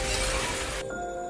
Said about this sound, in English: Finally, the core shatters.